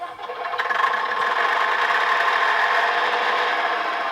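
Bachmann Class 121 model railcar with DCC sound decoder playing a diesel engine start-up: a brief cranking build, then a steady, rattling idle held evenly from a small speaker.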